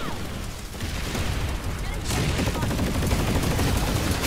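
Heavy gunfire barrage in PlanetSide 2 during a large fight of over 100 players near a spawn room, a dense continuous rattle of shots and booms that swells louder after a brief lull, with voices faintly underneath.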